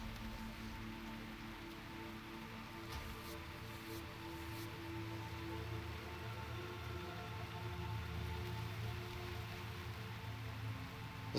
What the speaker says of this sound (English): I love the rain in here though.